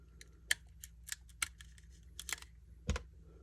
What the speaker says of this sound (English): I take that razor blade and just put it right in the edge of the plastic and run it through there